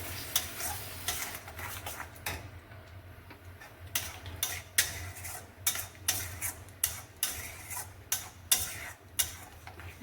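A spoon scrapes and taps rhythmically against a pan while a coconut, yogurt, cashew and green chili paste is stirred and fried for potato dum, with quiet frying beneath the strokes.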